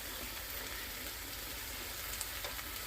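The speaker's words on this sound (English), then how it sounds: "you'll hear some nice sizzling" Rice sizzles and fries steadily in a hot pan with Worcestershire sauce added, a dense, even hiss that runs without a break from start to finish.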